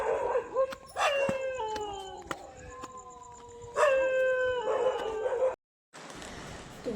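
A dog howls from a rooftop in a series of long, wavering, gliding calls, two main bursts with yips in between, fairly close and loud, followed by a brief dropout.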